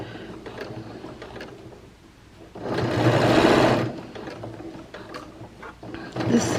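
A sewing machine stitches seams on slippery matte-finish fabric in short bursts of rapid mechanical clatter, with a louder sustained run in the middle and quieter ticking between stitches.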